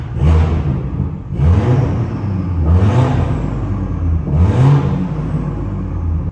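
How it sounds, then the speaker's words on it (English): A 440 HP B58-engined BMW M240i revs hard four times in sport mode in a regular rhythm, each roar rising and falling, loud and close. "that was revving in Eco Pro as well, so sport mode, as you can hear, is way more aggressive."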